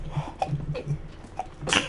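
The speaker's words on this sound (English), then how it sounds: "I'm gonna sneeze" A single sneeze bursts out near the end, after a second or so of quiet breathing and small throat noises from a person at a computer during a Stanley Parable: Ultra Deluxe game session.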